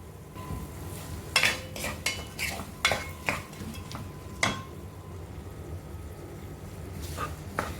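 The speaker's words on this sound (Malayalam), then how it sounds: "നന്നായി വാട്ടിയെടുക്കാം. ഗോൾഡൻ കളർ ആവുന്ന വരെ വാട്ടിയെടുക്കണം." Onions sauté with salt in oil for paneer masala, a faint sizzle under irregular bursts of a spoon scraping and clinking against the pan, close by with no talking.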